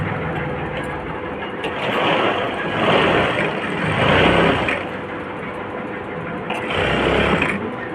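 A sewing machine stitches a narrow strip for a little girl's frock. It gives a close, steady mechanical whirr that swells and eases in short bursts as the stitching runs.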